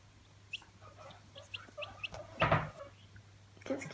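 Small chicks peep in short, high chirps scattered across the moment, close by and fairly quiet, with a steady hum and a louder rustle partway through.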